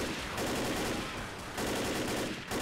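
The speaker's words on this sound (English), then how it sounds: "Shoot them off of me, god damn it! Help! I'm shooting!" Sustained, loud automatic gunfire from the zombie shooter game Left 4 Dead, rattling in rapid bursts with brief dips between them and no talk over it.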